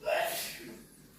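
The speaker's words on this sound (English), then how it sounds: "My daughter's sneezing in the video, sorry." A single quick, soft sneeze from a child, faint and slightly distant, trailing off into a breathy exhale.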